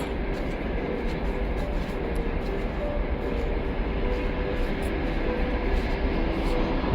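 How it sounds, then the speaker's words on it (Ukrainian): A train passing below near a Kyiv cemetery, a continuous low rumble of rolling wagons with faint rhythmic clicks, steady and fairly loud throughout. "Зараз потягу там проїде внизу, бо заважає."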